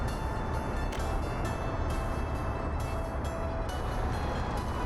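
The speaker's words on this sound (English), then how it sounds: "Let's go ahead and wait until this steel train drops stuff off" Steel freight train in Workers & Resources: Soviet Republic rolling steadily along the track, a continuous broadband rumble with faint wheel-on-rail tones, loud and close with no talk.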